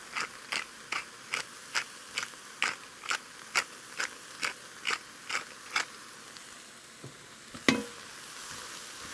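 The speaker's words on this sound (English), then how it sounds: "I'm going to add some fresh ground pepper" A pepper mill grinds fresh black pepper over a pot of chicken and wild rice soup, thirteen sharp, evenly spaced crunchy clicks close up, followed by a soft knock.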